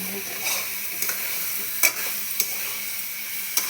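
Eggplant pieces sizzle steadily in a hot pan while a spatula stirs them, with several sharp scraping clicks spaced unevenly over the continuous frying hiss and no talking.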